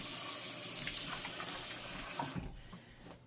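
A kitchen tap runs in a steady loud hiss of water as a dish is rinsed in the sink, then the flow cuts off and leaves quieter splashes and drips.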